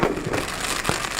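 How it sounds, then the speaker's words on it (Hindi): Fireworks at an outdoor Dussehra Ravan Dahan event in Kanker burst into a dense, continuous wash of crackling noise, with one sharper pop standing out near the end. "आतिशबाजी"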